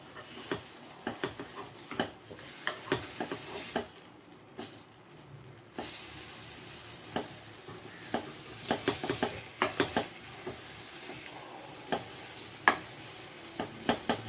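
A wheat sweet dosa cooks on a pan over a medium flame, with a steady soft sizzle and a run of sharp scraping and tapping clicks as it is turned and pressed, no voices present.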